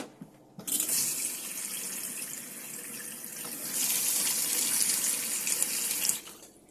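Water gushing from a tap into a sink in a Swift Sprite Musketeer TD caravan, a steady close hiss that starts abruptly, swells slightly midway and stops sharply near the end.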